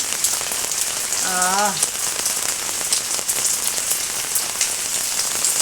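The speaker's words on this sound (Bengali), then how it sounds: "বৃষ্টিতে প্রচুর বৃষ্টি হলো জোরে বৃষ্টি হলো" Heavy rain pours steadily onto surfaces nearby, a dense, continuous hiss of drops with a brief bird chirp partway through and no talking.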